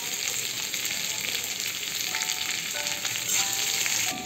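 Onions frying in a pan toward a light golden brown give a steady close crackling sizzle, even and continuous throughout with a few brief sharper pops.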